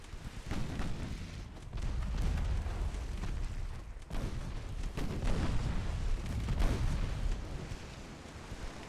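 Secondary naval guns, 3-inch Mark IIs, fire in Ultimate Admiral Dreadnoughts in an 1897 naval campaign. About half a dozen irregular heavy booms land over a continuous low battle rumble, with no talking.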